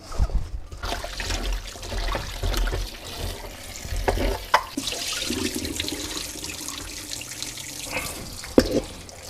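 Salted eggplants rinsed under a running kitchen tap, a steady close wash of flowing water with splashes and handling clatter, one sharp knock near the end, no talk.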